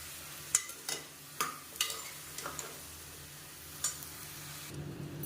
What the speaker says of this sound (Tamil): இதையும் சேர்த்து நல்லா வதக்கி விட்டுக்கணும்.